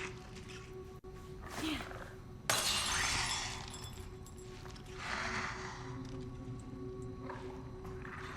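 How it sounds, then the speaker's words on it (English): Glass shatters in Resident Evil 9: a sudden loud crash of breaking glass bursts out partway through and rings on briefly over ongoing game ambience and low rumble. "Broken glass, broken glass."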